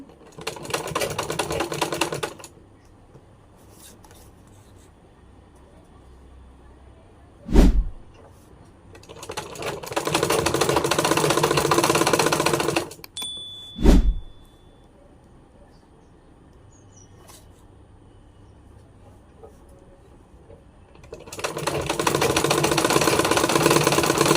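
A sewing machine runs in three steady bursts of rapid stitching while a pillow cover is sewn, with quiet pauses and sharp clicks between the runs.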